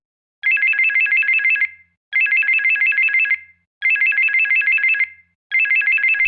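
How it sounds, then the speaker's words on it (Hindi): A phone ringtone trills loud and close in four evenly spaced bursts, each a rapid warbling electronic ring about a second long separated by brief silences, with no voices. "तभी अचानक से रवि का फोन बजने लगता है।"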